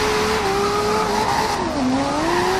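A Nissan S15 Silvia with an RB26 engine drifts in a racing video game, its engine holding a high, steady wail that dips and climbs again under a continuous tire squeal, loud and close throughout.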